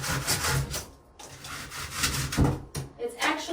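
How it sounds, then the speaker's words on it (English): A drywall tool scraping and cutting cured spray foam insulation off wood framing in a walk-in cooler build: a series of close, rough rubbing strokes with brief pauses between them. "It's actually a drywall tool, but it's doing the job."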